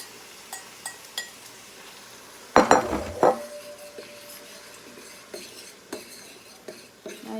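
Eggs being stirred with spinach in a pan, with a burst of scraping and clinking utensil contact in the middle, then sparse light taps and a faint sizzle at moderate distance.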